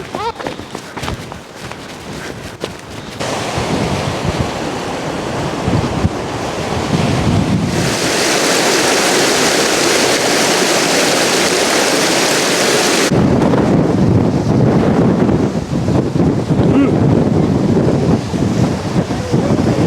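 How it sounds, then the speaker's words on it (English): Strong coastal wind roars and buffets constantly on the NC500 in Scotland, with the heavy wash of ocean surf beneath it, loud and continuous throughout. "Whoa, she's windy still."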